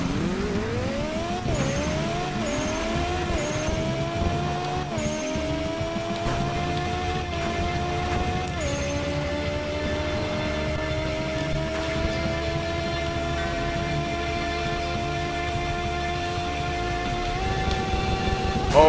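Racing video game engine whine climbing steadily through repeated gear shifts with tire squeal as a car crashes and gets hit by another AI car, loud and continuous throughout with no talk.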